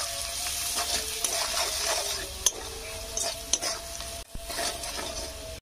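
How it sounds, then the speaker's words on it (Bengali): Ground spices sizzle and fry in hot oil in a pan while being stirred steadily, a continuous close crackle with occasional light clinks of a spoon against the pan. "আমি ভালো করে এটা কষে নেবো।"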